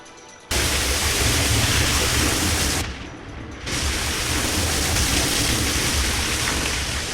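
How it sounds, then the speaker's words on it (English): A constant low, broadband waterfall rumble from an Unreal Engine game scene runs steadily, dipping briefly partway through before returning at full strength. "This allowed me to maintain a constant low-pitched rumble linked to the waterfall."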